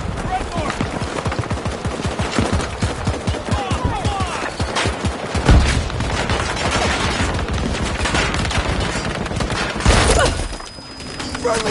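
Gunfire in Battlefield 2042's Breakthrough mode: rapid, loud automatic bursts rattle continuously, close and dense, with battle noise layered around them.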